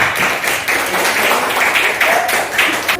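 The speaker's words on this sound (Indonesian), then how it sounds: "tepuk tangan untuk kelompok 4." A class applauds a student group after its presentation, a near, fairly loud burst of clapping with uneven bunches of hand claps and faint voices mixed in.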